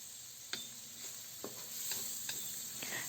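Sliced tomato cooking in a pan with onion and garlic, a quiet steady sizzle broken by several sharp scraping stirs of a utensil against the pan at irregular intervals.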